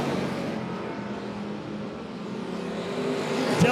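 Late model race cars drone loudly and steadily around Monett Motor Speedway, with engines rising slightly toward the end as the field runs through the turns.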